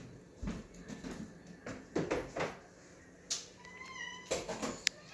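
A house cat meows repeatedly indoors, several short, close, fairly clear calls spread across a few seconds, with a few faint knocks and rustles around them and no talk.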